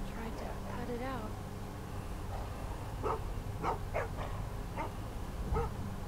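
Dog whimpering and yipping in The Walking Dead Season 2 video game, with high whines early on, then several short barks and yelps over a constant low background rumble, with voices talking at times.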